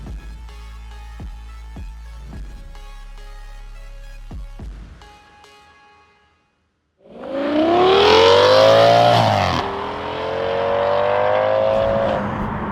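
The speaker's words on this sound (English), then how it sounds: "I'm sat in a family estate car with a V10 engine, which is a Japanese import, and it's got an upgraded exhaust." An Audi family estate car fitted with a Lamborghini V10 engine and an upgraded exhaust: after a quieter stretch of idle, the engine flares into a loud, rising revving roar, briefly drops, then surges again.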